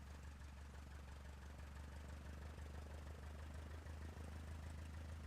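Steady low drone of a propeller aircraft engine running in bitter cold in Microsoft Flight Simulator 2020, a constant even hum held throughout with no other sounds.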